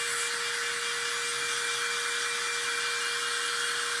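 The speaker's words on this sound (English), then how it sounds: "I am going to take my dryer and warm up that wax." A hair dryer blowing hot air to warm wax for an upcycling craft, a steady close whirring hiss with a constant motor whine, unbroken throughout with no talk.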